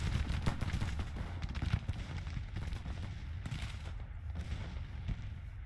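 Artillery fire in the Grand Tactician strategy game: a rapid, irregular rolling barrage of booming reports, moderately distant, sustained throughout without talk.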